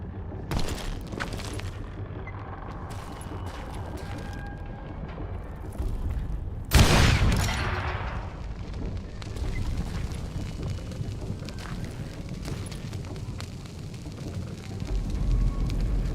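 An explosion goes off in Call of Juarez Gunslinger, one sharp, heavy blast that rumbles away over a couple of seconds amid ongoing gunfight ambience and scattered shots.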